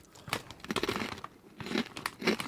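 Crunchy Andalouse-flavored potato snack, tasting of mayonnaise and tomato, being chewed up close, with a series of sharp, irregular crunches and crackles separated by short pauses.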